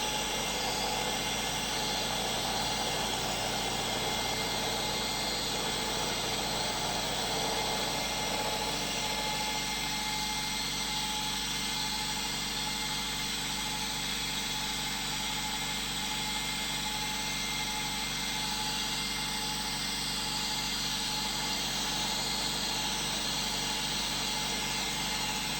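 A David Brown 996 tractor engine runs steadily at about 1000 RPM, a continuous close droning rumble that settles slightly lower partway through, with no talking.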